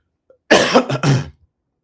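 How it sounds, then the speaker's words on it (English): A close, harsh cough in two bursts, loud and raspy like throat clearing, with silence before and after. "Let me cough right quick."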